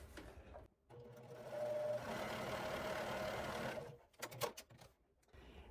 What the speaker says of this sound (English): I'm just going to sew them right sides together at an angle.